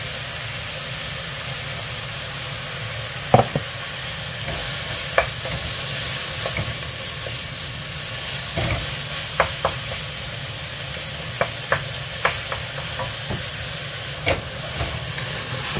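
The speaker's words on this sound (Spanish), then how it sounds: "A mí me gusta que esté bien dorada la carne para luego ponerle la cebolla." Ground meat browns in a hot pan for lasagna, a constant loud sizzle and hiss running the whole time, broken by occasional sharp scrapes and taps as it is stirred, close up with no voices.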